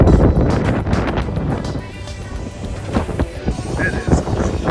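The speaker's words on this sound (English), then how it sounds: "It is cold and windy out here." Cold wind buffets the microphone outdoors at a car charging stop in 14-degree weather, a rough, gusty rumble that rises and falls, with a voice talking over it.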